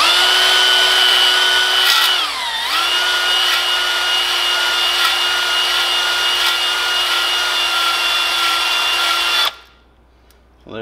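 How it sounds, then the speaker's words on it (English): A drill spins a cylinder hone inside the bore of a 440cc engine, a steady, loud whirring whine that dips in pitch once as the load shifts, then stops abruptly near the end. "Now we're going to drill and move in and out at the same time"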